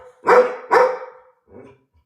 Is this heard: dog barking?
yes